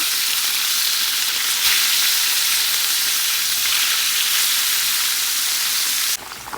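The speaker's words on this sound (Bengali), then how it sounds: "এই পাশে হচ্ছে লড়াটা মাছ ভেজে নিচ্ছি" Fish frying in oil in a pan, a steady, loud, continuous sizzle close by that cuts off abruptly near the end, with no voices.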